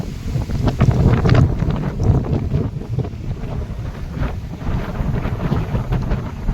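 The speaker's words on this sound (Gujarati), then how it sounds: "વાવાઝોડું આવી ગયું વાવાઝોડું." A strong windstorm gusts hard against the microphone outdoors in a village, with loud buffeting roars and rumbling that rise and fall steadily throughout.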